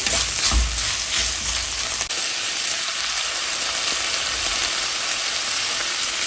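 Yellow and red bell peppers sizzling in a hot frying pan, a steady loud crackling hiss with a few scraping stirs near the start, no voices.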